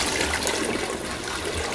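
A robot toilet runs a full flush: a steady swirling rush of water at moderate level that holds evenly for a couple of seconds, with no talking.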